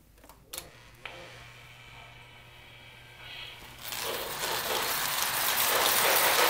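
Toy train starting with a couple of clicks, then a soft motor hum that builds into a louder, steady rattling rumble of running wheels and track, close by.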